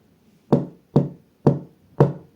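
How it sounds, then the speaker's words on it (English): Four evenly spaced, sharp knocks on a hard surface, close and loud, about half a second apart with silence between them, used to test active noise cancellation on wireless earbuds. "Active noise cancellation should hopefully cancel out the knocking."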